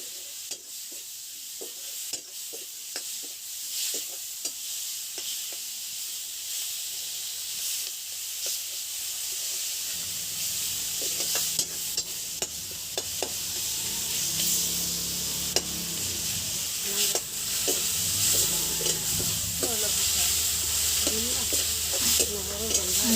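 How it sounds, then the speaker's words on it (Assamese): Spiced vegetables sizzle steadily in a hot pan with ginger, salt and turmeric, under repeated scraping stir strokes that grow fuller and more frequent in the second half, with no talking. "এইখিনি ধুনীয়াকৈ লৰাই ভাজি লৈছো"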